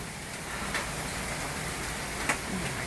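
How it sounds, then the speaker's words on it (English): Hail and heavy rain during a thunderstorm in Seaford, a dense steady hiss of falling water with a couple of sharper ticks of stones striking a surface nearby, no voices. "No, it's still hailing."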